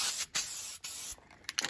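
Short hissing bursts from a spray paint can coating old metal bins, several quick sprays with small gaps, close and fairly quiet.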